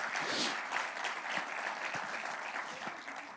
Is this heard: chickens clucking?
no